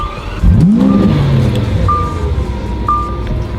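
A Lamborghini Aventador S V12 engine blips once in a loud, rising rev that sweeps up and settles back into a deep idle, with two brief high electronic beeps sounding over the rumble.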